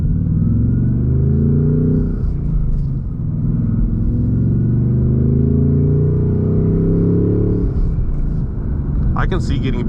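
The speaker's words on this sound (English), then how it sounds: "Ford did a great job with the factory exhaust on these" A 2026 Ford Mustang GT with a manual gearbox and V8 engine drones loud and steady under acceleration, its factory exhaust rumbling through the cabin while a person talks over it, with a brief shift-like change near the end.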